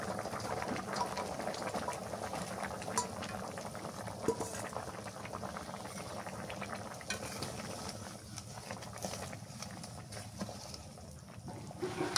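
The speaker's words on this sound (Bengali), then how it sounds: "তরকারি বলক উঠে গেছে, ভাজা মাছটা দিয়ে দিই।" Curry bubbling at a boil in a pot, a steady close rolling bubble and gurgle that continues without pause, faint and unaccompanied by speech.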